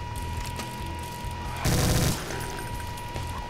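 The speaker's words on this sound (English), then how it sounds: "Another grenade." In the Brutal Doom video game, a single short loud grenade blast erupts midway, standing out above steady background game noise and a constant tone.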